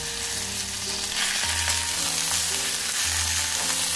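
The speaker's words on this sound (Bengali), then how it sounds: "আলুগুলো আমার একটু ভাজা হয়ে গেছে, এরপর আমি এঁচোড় আর সজনে ডাঁটা এর মধ্যে দিয়ে দেব।" Potatoes, raw jackfruit and drumsticks fry in oil in a wok, a constant close sizzle with a soft low hum underneath and a few brief stirring scrapes, with no voices.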